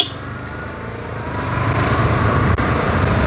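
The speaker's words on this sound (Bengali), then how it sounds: "যখনই এক্সেলেটার দিচ্ছি তখন কিন্তু মুহূর্তের মধ্যে স্পিড নিয়ে নিচ্ছে।" An auto rickshaw accelerates hard, its engine note swelling steadily and growing louder over a few seconds with no talk.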